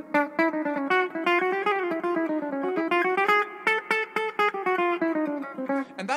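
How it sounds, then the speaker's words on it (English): A melody of randomly chosen notes drawn from all twelve chromatic pitches, played as a quick run of distinct, evenly spaced tones of moderate loudness, wandering up and down with no clear key. "if we start playing random melodies using these 12 notes, it sounds a bit like this."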